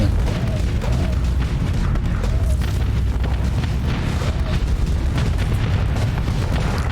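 Constant heavy booms and explosions from bombing and torpedo attacks in a naval combat video game, a loud dense rumble with no break.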